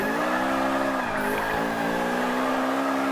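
Nissan 240SX drifting in Forza Motorsport 5 with a laggy VTEC engine swap: a loud, steady engine drone with rising revs and faint tire squeal, continuous and close throughout.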